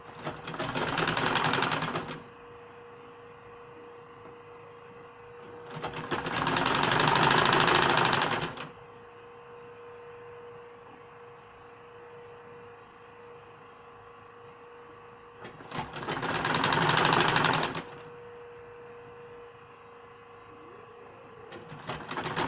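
Sewing machine stitching an off-shoulder padded blouse at the armhole, whirring in three separate bursts of a few seconds each over a steady low hum between runs.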